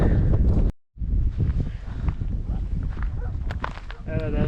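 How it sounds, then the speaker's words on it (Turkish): Strong wind buffets a microphone out on a pasture in November where cattle graze, a loud continuous rumbling roar that cuts out briefly and returns, with a voice talking over it. "çok fena bir rüzgar var"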